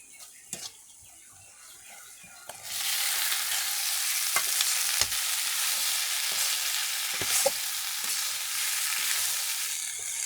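Boiled pasta tipped into a hot pan and stirred, a steady bright sizzle and crackle of frying with occasional scraping clicks of the spoon, close and continuous with no talking.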